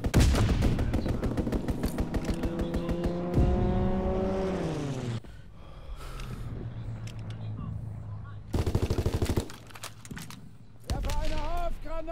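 Enemy aircraft strafing run in Call of Duty WWII, with heavy gunfire and roaring engine sweeping down in pitch, then bursts of shots and battle noise under occasional voices.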